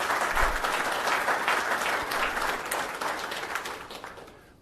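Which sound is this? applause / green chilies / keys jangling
applause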